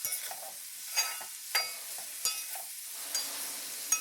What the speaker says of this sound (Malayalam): നമ്മുടെ ഈ ഓയിലും നെയ്യും ഒക്കെ നന്നായി ചൂടായതിന് ശേഷം അതിലേക്ക് അരിഞ്ഞു വെച്ചിരിക്കുന്ന സവാള നമുക്ക് ഇട്ട് കൊടുക്കാം